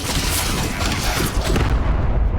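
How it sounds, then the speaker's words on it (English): A large explosion in the real-time strategy game Wartorn, a loud, continuous, dense rumble of blast and debris that fills the whole moment and begins to thin out toward the end, with no voices. "That explosion did hurt."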